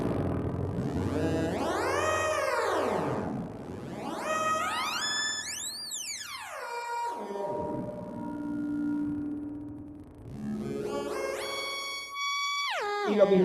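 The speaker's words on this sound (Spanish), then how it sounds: "Voy a cambiar la frecuencia del oscilador para que escuchen la reverberación." Synthesizer oscillator pitch swept up and down in arcs and steps, fed through spring reverb on a VCS3, giving a loud, continuous, warbling tone with washy reverberant tails and no talk.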